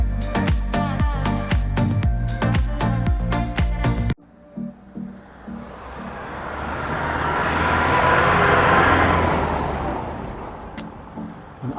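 Cars on a town street in Malchow heard from a bicycle, first a loud clattering rumble, then a steady swelling roar of traffic passing close by that builds and fades.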